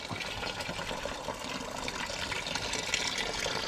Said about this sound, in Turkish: Şuna su doldurayım hemen. Su sesini duymak istiyorum.